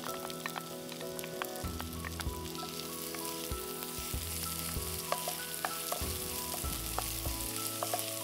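Continuous crackling sizzle of chopped onions frying in hot oil with fennel seeds, with a low steady hum and no talking.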